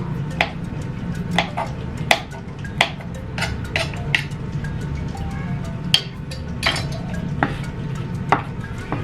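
Red chilies being ground into spice paste with a stone mortar and pestle, a steady scraping grind under sharp irregular knocks and clacks of stone on stone, close and fairly loud, with no talking.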